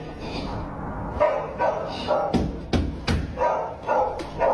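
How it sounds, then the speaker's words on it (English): Several short, sharp dog barks ring out in an irregular burst, fairly close, over a low background hum. "The dogs are barking."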